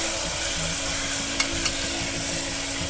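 Chopped tomatoes and ginger garlic paste being stirred in a frying pan for egg pulao, a steady close sizzle with a couple of faint scraping touches, no voice.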